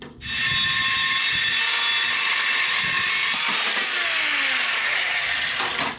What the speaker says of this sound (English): cut right through this 2-inch square tube